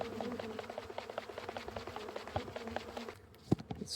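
Honey bees buzzing steadily around an open hive during a late-season inspection, a continuous close hum with scattered tapping, ending in a sharp knock.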